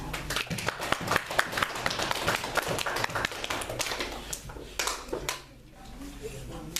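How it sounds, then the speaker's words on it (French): A church congregation claps for Jesus during a worship service, with dense, rapid, energetic applause up close, voices over it, and the clapping fading toward the end. "Acclamons pour Jésus."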